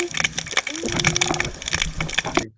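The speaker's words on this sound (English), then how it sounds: "So I'll play the fish from the Gambia." Fish calls recorded in the Gambia form a dense run of crackling, crunching pulses with a low tonal hum threaded through, steady for about two and a half seconds before cutting off.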